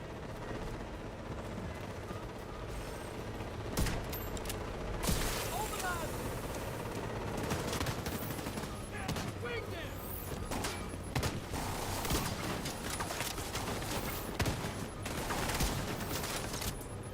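Dense gunfire from The Division 2 video game, rapid bursts layered with missile blasts and mechanical clatter in a constant loud barrage, with no talk over it.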